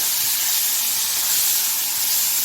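Cut tomatoes fry with peanuts in oil for peanut chutney, making a continuous, fairly loud steamy hiss with no voices.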